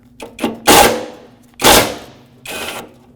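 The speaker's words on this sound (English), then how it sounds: "put a power tool on this" A power tool whirs in three short bursts on a front bumper bracket bolt of a 2009-2010 Dodge Ram 1500, loud and close, with brief pauses between them and a couple of quick clicks at the start.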